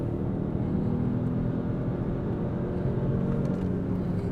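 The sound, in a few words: Citroen C5 Aircross mild hybrid SUV accelerating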